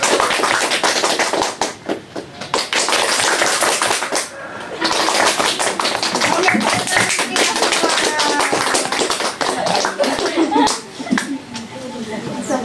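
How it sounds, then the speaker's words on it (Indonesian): Seminar audience clapping steadily at an ordinary pace, a long run of many hands patting together, close and sustained with only short dips. "Ayo, tepuk tangan biasa dulu."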